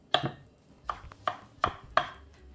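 Shiitake mushroom stalks sliced with a knife on a cutting board, five crisp separate chops spaced unevenly, close and fairly quiet with nothing else around them.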